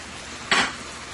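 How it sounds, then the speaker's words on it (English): A single short clatter as onion, peppers and other vegetables drop into a pan, one loud burst standing alone against a quiet kitchen background. "Add my onion and all of my other vegetables into my pan here"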